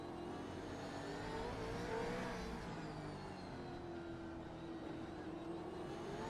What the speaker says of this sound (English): I love going quiet through there and just listening to the throttle application all through that staircase section